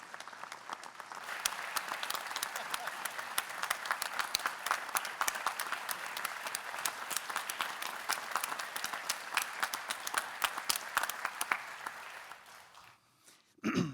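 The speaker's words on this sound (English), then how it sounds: "Can we please offer a round of applause to these outstanding individuals and true servant leaders" An audience at a university presidential installation ceremony applauds in a sustained round of clapping with distinct individual claps audible, building quickly, holding steady, then tapering off near the end before a brief final noise.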